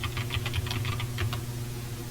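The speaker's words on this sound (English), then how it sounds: "just type it in your browser" Quick bursts of keystrokes on a computer keyboard while a web address is typed into a browser, a short rapid clicking run over a low hum.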